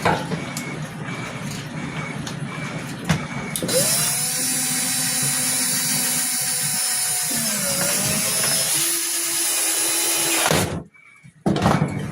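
A power drill drives in a screw: a loud, steady motor whine runs for several seconds, its pitch sagging as the screw tightens, then it cuts off abruptly before a brief final buzz.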